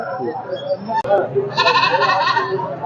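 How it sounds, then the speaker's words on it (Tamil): Goats bleat at the Kunnathur goat market in a loud, wavering chorus that swells in the second half, with people talking amid the crowd noise. "இங்கே வந்து ஆடுகள்லாம் நிறைய இருக்கு"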